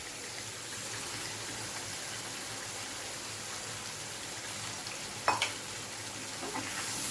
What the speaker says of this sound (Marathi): फक्त मसाला व्यवस्थित आपल्याला परतून घ्यायचा आहे.